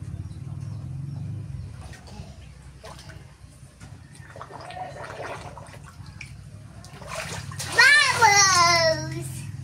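A child splashes in cold bath water, with steady watery sloshing and running water behind a voice and an adult talking. A loud, high child's squeal comes near the end.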